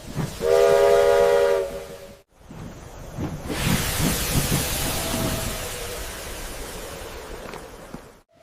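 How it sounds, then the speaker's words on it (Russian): A train horn blares loudly for over a second, then the heavy rumble and rushing noise of a train rolling in close by, with metallic squeals. "Вот и поезд, наконец-то."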